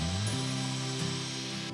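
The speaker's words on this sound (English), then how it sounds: "We drill through the wood with ease" A 5/8 spade drill bit bores through deck wood, a steady loud whirring grind with a slight pitch rise as the bit bites, continuous and close.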